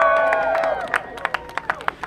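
Applause and scattered claps from a crowd at a country street fair for a performer, starting dense and fading into sharper individual claps and cheers, with voices mixed in.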